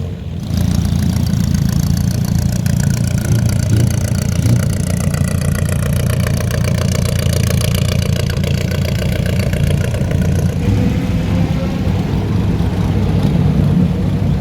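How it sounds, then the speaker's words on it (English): Vintage Bentley Blower car engine at the Nürburgring Classic, a loud steady low rumble running continuously and close by, with no talk over it. "Old school Bentley blower."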